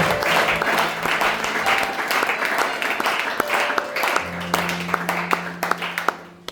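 A church congregation at a Sunday service applauds with dense, sustained clapping that thins toward the end into a few separate claps, with a sustained musical tone underneath.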